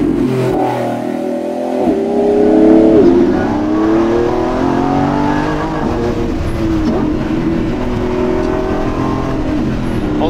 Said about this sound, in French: Et quel bonheur d'avoir un V12 derrière soi.